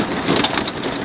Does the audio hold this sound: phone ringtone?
no